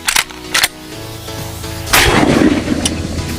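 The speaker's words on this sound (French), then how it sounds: "Tire d'une balle." A 12-gauge shotgun fires a slug into containers of kinetic sand, with one loud, sharp blast and a booming echo, preceded by two short thumps.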